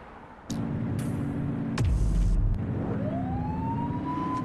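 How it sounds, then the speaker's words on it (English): A police car siren in the video game The Precinct winds up into a rising wail partway through, over a steady engine hum and a few sharp clicks. "Turn that siren off."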